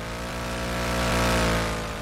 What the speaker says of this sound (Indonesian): berisik banget knalpotnya guys